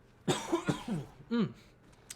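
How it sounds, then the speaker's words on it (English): A person coughs close by in a quick run of harsh, chesty bursts, a short pause, then one more strong cough, with a faint soft sound trailing at the end. "I've had a real bad cough recently."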